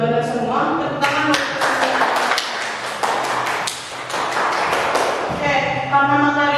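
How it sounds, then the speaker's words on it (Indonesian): Classroom students clap their hands in a burst of sharp, uneven claps lasting several seconds, with speaking voices before and after. "Tepuk tangan."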